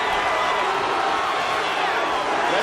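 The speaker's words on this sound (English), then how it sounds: "Let's go Weidman and chant" A crowd chants at a custom fight event in the UFC 3 video game, a dense, steady roar of many voices that holds without a break, loud and close.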